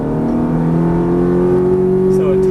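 Ferrari F430 engine pulling hard under throttle on a race track, a loud steady tone rising slowly in pitch as it accelerates, with someone talking over it.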